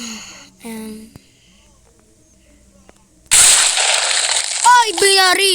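A sudden, loud, sharp gunshot blast cracks out in the video game Dingus after a quiet stretch, followed by an excited voice talking over the tail of the noise.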